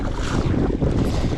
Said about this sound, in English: we got a lot of wind out here today. I'm having to battle this wind